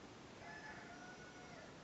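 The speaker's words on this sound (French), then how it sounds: "mais mon coq chante, mon coq est heureux." Rooster crowing in the background of a rural French setting, a faint drawn-out cock-a-doodle-doo carried over steady ambient hiss, distant and soft.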